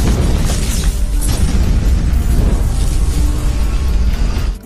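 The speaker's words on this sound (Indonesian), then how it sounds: "seketika mobil yang ada di belakang Big Boss pun meledak" A car explodes in a busy market scene in an action film, a loud, dense rumbling boom with crackling debris and bursts that stay heavy and sustained for several seconds before cutting off.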